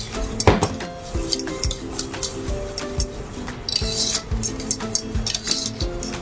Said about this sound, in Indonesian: Kita matikan apinya sambil tetap diaduk